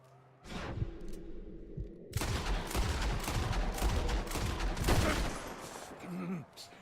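Rapid bursts of gunfire crackle in a Red Dead Redemption 2 shootout, a few early shots followed by sustained, dense volleys from about two seconds on, loud and close, with some talking mixed in.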